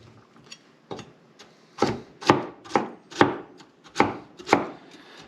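A knife chops carrots on a cutting board in a home kitchen. About ten crisp, close knocks quicken into a steady rhythm, with no talking.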